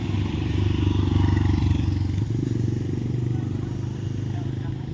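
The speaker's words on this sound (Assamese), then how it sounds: "বাইকটো পাৰ্কিং কৰি থৈ লওঁ।" A Pulsar motorcycle's engine runs with a steady, close, low throb as the bike is parked at a highway dhaba on a ride through Arunachal Pradesh, with a voice talking over the engine.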